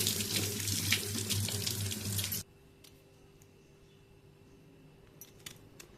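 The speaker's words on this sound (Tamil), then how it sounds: "வெள்ளரிக்காய் நல்லா வாஷ் பண்ணிக்கலாம்" Tap water runs steadily into a sink while a cucumber is washed under it, a close, full splashing for about two seconds that then cuts off abruptly, leaving near silence with a few faint clicks.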